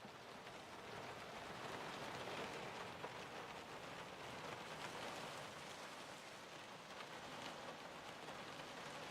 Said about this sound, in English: It's been raining a lot.